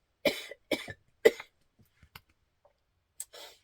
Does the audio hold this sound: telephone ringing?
no